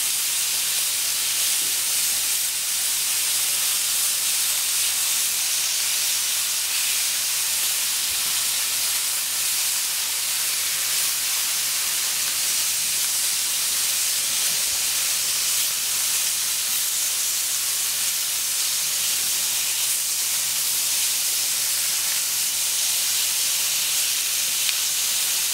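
Duck aiguillettes sizzling on a hot plancha griddle, a steady, loud, unbroken hiss that continues at an even level throughout with no voices.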